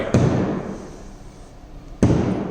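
Two sharp, hollow knocks on a solid wooden wall in a modular kitchen about two seconds apart, each with a short resonant thud and a lingering room echo.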